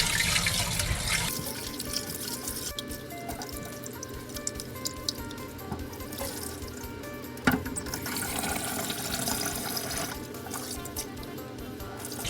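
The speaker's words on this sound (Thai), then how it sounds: "เขาก็ล้างไปเรื่อยๆครับจนน้ำขาวแล้วครับ" Glutinous sticky rice being washed by hand in water, with steady splashing, swishing and dripping, sometimes running-tap sounds, continuing close and fairly loud without talk.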